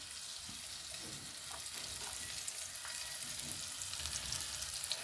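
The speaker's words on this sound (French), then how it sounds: "j'ai coupé de l'ail et là je suis en train de le faire cuire" Chopped garlic fries in a pan with a soft, continuous sizzle and scattered crackles, heard close and fairly quiet with no talking.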